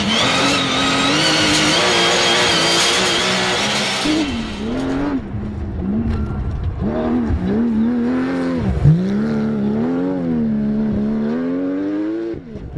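A Porsche 911 GT3 runs hard up a narrow, slippery mountain road in California, its engine screaming high and loud before dropping through gear changes into repeated rising pulls, close and continuous with no talking.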